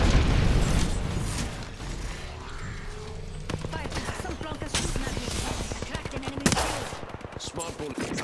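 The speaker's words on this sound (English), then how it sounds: "Getting shot at." Enemy gunfire rattles at the player in Apex Legends, rapid bursts of shots with close impacts and mechanical clatter, loud and dense throughout, with brief game voice lines over it.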